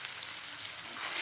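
Taro pieces fry in oil with a steady, moderately soft crackling hiss that grows a little brighter at the end.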